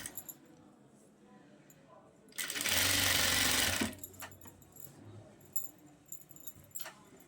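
A sewing machine stitches a six-year-old girl's 14-panel full-flare Anarkali frock in one loud, steady whirring burst of about a second and a half, set between quieter handling noises.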